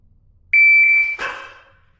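A shot timer gives a single steady electronic beep lasting about half a second, followed by a sharp loud crack that fades quickly, during pistol dry-fire practice.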